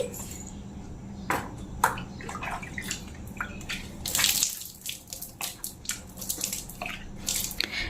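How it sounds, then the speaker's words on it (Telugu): Water is poured and splashed across an outdoor area to wash it clean, giving a close, uneven run of splashes and trickles with intermittent sharper slaps and drips throughout. "ఇప్పుడైతే బయట వాటర్ పోసి ఇట్లా నీట్గా కడిగేస్తానండి"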